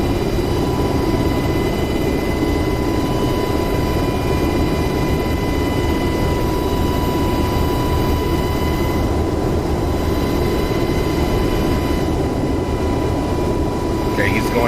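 A UH-60L Black Hawk helicopter in DCS World gives off a steady, loud engine and rotor drone that fills the whole clip, with constant high turbine whines over a dense low rumble and no break.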